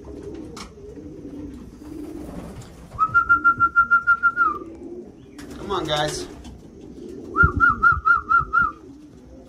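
Racing pigeons coo in two drawn-out rolling phrases, near and clear, with a voice speaking briefly between them and a sharp clatter in the middle.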